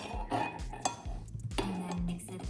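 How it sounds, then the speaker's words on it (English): A homemade natural shampoo mixture with olive oil and apple cider vinegar is stirred gently in a container. The sound is quiet and close: rhythmic soft scraping, low knocks and light clinks. "We stir it in gently."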